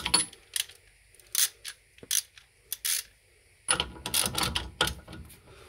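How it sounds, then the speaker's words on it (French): A torque wrench ratchets on a car's wheel bearing during Renault Mégane repair work, close metallic clicking bursts in an uneven rhythm, separated by short pauses and then a quicker cluster of clicks near the end. "Ensuite vous prenez une clé dynamométrique et vous desserrerez votre roulement"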